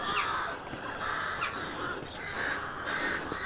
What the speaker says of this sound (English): there are hundreds of ravens in these trees here